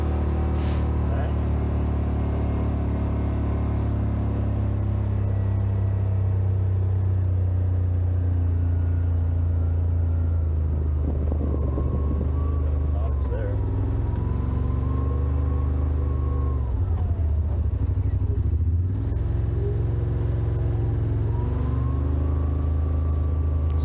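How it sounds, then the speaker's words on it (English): Yamaha RMAX1000 side-by-side driving along a beach in Newfoundland, a constant loud low engine drone and road rumble running throughout, with occasional tonal whines and shifts in pitch as it moves. "we're just driving back down the beach here"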